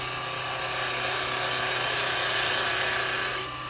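A carbide chisel cuts wood on a lathe with the bevel rubbing, giving a steady, continuous hissing scrape over the spinning motor hum that holds evenly throughout and eases off just before the end.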